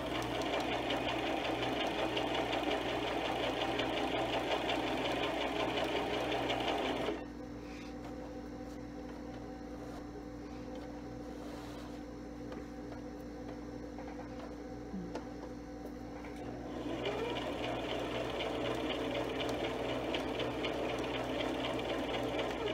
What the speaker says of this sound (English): Continue to sew all the way around the fabric until you get to the other end